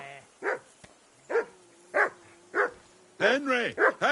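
A dog barking in the medieval game Kingdom Come: Deliverance II: five or six loud, close barks spaced about half a second apart, ending in a quicker burst of yips and barks.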